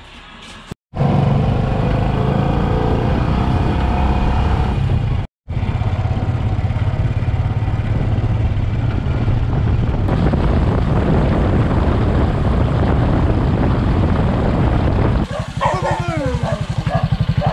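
A loud, droning old boat motor runs continuously up close on a handline fishing trip, with two brief cutouts and a rattling burst near the end.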